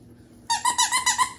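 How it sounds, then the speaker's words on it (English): A squeaky toy for a Yorkie puppy is squeezed repeatedly, giving five quick, bright, rhythmic squeaks up close after a brief quiet moment. "it squeaks"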